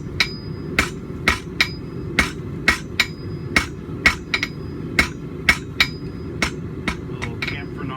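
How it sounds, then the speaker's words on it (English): Steady, evenly spaced hammer blows from a 3-pound rounding hammer striking hot steel on an anvil while drawing the bar down to a point for a forge-welded back scratcher, each strike sharp and ringing, about two per second. "Working with the 3-pound rounding hammer, we're just drawing down and out to a point."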